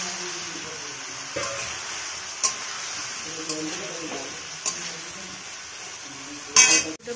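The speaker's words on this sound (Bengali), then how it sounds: "এইবারে ডিম আর আলু দিয়ে কষিয়ে নিচ্ছি" Eggs and potatoes sauté in oil in a pan for an egg curry, with a steady soft sizzle and a few clinks of a spoon stirring against the pan, punctuated by a louder scrape near the end.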